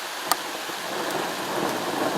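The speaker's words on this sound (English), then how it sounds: "We got a thunderstorm approaching." Heavy rain pours steadily in a dense hiss in a gorge, with a sharp crack of thunder early on and the downpour continuing loud throughout.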